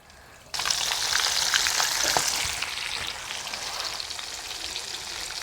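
Semolina-coated fish sizzles in hot oil on a wood-fired stove, a loud bubbling hiss that bursts in abruptly and holds steady with crackling pops, no voices over it.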